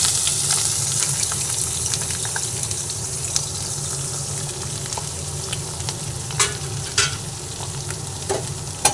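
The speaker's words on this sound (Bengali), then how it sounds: "পেঁয়াজটা দেওয়ার পরে পেঁয়াজটা কিছুটা ভেজে নেব" Chopped onions fry in oil with whole spices and two bay leaves, producing a steady crackling sizzle broken by occasional spatula scrapes and sharp clicks against the pan, with no voices.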